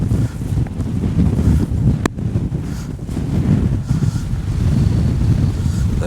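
Wind gusts across Bamford Edge above Ladybower Reservoir, buffeting the microphone with a steady, loud rumbling roar that swells and eases for the whole stretch, with a single sharp click partway through.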